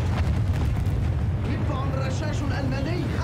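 Explosion destroying a cannon in the shooter Battlefield 1, a dense rumbling blast with sustained low boom and crackling debris filling the whole moment amid battle noise.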